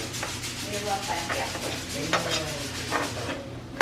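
Pressure-cooked pork being pulled apart in a pot for pulled pork, soft scraping and stirring with utensils against the pan, light clinks and a faint sizzle, with occasional voices in the background.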